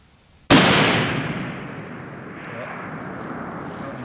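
A .338 Lapua Magnum rifle fires once at a 1000-yard target, a single sharp, loud blast that cracks open and then rolls into a long, slowly fading echo across open ground.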